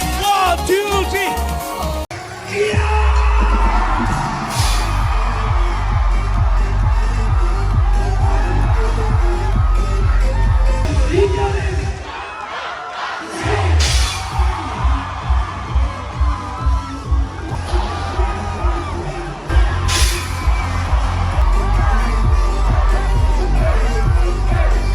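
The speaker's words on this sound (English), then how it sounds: "The crowds absolutely love it and cheer at the top of their lungs." A loud festival crowd at a Korean shamanic event cheers and shouts steadily, with drumming and voices running over a rhythmic pulse.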